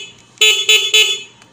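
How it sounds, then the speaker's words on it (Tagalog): A motorcycle horn sounds three short, loud, close honks in quick succession after being wired up during a repair, with a brief faint toot trailing off. "So, yun. Tapos na tayo sa busina."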